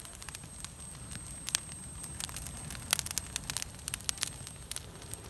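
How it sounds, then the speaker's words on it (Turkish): A campfire burns outdoors at a camp in the Bolu countryside beside a lake and pine trees, giving a continuous soft roar scattered with sharp, irregular crackles and pops close by. "Ateşiniz de muazzam yanıyor"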